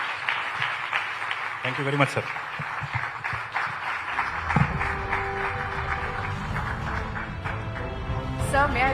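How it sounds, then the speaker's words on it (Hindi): Applause from the audience at the Times Drive Auto Summit conclave, rising under a host's voice as he thanks a guest on stage and carrying on as a steady crowd clapping for the rest of the clip. "जोरदार तालियों से।"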